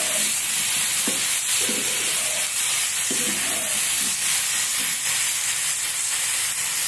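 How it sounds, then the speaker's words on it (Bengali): Fish sizzles steadily in hot oil in a pan, a continuous bright hiss with a few faint background thumps and no talking. "এরকম মাছ ভেজে দিলাম"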